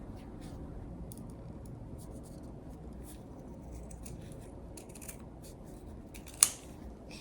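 Scissors snip low through a leather glove to cut off a wide piece while repairing an antique doll, a soft, close series of cuts over low room hum, ending with one sharp click.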